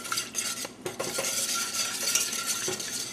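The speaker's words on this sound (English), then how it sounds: "you want to whisk it so you can sort of break those pieces up so it gets smooth and creamy" A whisk scrapes and clinks steadily against a pan while stirring a cream sauce, a continuous close metallic stirring with no voices.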